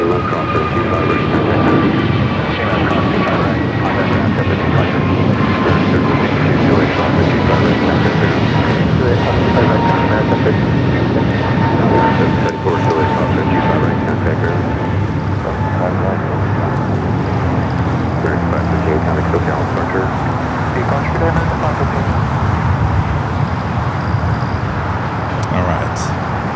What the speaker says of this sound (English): That's the A380 Super making a south side arrival.